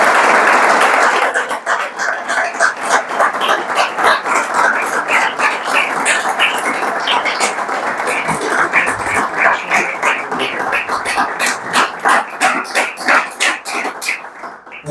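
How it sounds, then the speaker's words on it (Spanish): Audience applauding after a talk on Marian theology by a priest, sustained loud clapping from many hands lasting the whole stretch, thinning slightly toward the end, with a faint voice briefly underneath. "Un aplauso, padre."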